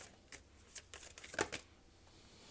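Tarot cards being shuffled up close: quiet, irregular bursts of riffling and card flicks over about two seconds, then soft handling noise.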